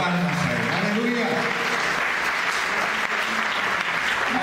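Church congregation clapping together during a special service, a sustained loud wash of applause from a crowd, with voices and cheering mixed in.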